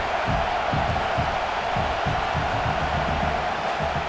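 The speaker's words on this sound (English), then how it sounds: "how loud is it in this building? This is crazy. These fans are going absolutely nuts." A large stadium crowd at a college football game, Ole Miss versus Mississippi State, roars and cheers loudly in a continuous wash of noise, with scattered shouts rising from the mass of voices.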